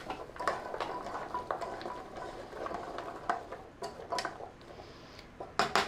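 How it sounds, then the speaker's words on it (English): Chopped vegetables for a lentil and potato pasty filling sauté in a pan. Soft, steady sizzle comes with scraping stirs and a few sharp utensil taps against the pan. "So you just want to saute these for a little bit"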